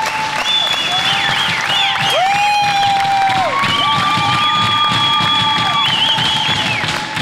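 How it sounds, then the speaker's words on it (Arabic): A TV studio audience on a Tunisian variety show applauds and cheers loudly and steadily throughout, with whistles and shouts rising over the dense clapping wash. "اسمع الجمهور اسمع"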